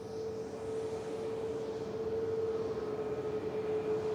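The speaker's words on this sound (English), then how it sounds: "And a nice steady climb out on 2-3 left. On the 787 Dreamliner." A Boeing 787 Dreamliner airliner climbing out after takeoff from runway 23 left at Manchester Airport, heard as a steady, distant jet roar with a sustained engine whine, rising slightly in loudness, no voices.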